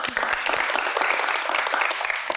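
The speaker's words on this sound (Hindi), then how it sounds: "तो उनके लिए तालियाँ." Audience applause for makeup artists on a talk show set, a short, fairly soft burst of many hands clapping together.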